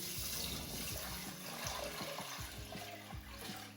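Water pours and splashes into a metal pressure cooker, a bubbling, gurgling fill with sloshing pulses throughout.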